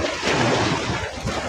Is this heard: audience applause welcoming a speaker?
no